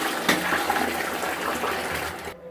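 Water rushing and draining down a toilet after a pump action drain unblocker clears it: a loud, close gurgling flush that runs steadily and then cuts off abruptly near the end, with no talking.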